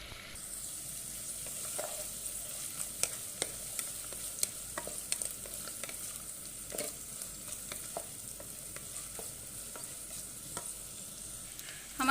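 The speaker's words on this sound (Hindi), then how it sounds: "अब हम इसमें डाल देंगे चिकन को भी हम थोड़ी देर के लिए फ्राई करेंगे" Chicken frying in a wok for egg fried rice, a constant sizzle with repeated scraping clicks of the stirring spatula, close and steady for the whole stretch.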